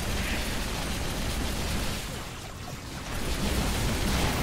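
A fuel rod cannon blast in Halo 3 during the Legendary-difficulty mission The Covenant. It is a loud, dense roar of explosion noise that fills the whole moment, dips briefly midway, then surges again.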